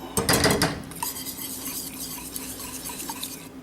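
A utensil scrapes and clinks in a pan as cheese is stirred into a sauce for a low-carb tomato and cheese pie, with a louder burst of stirring at the start, then softer steady scraping over a low hum.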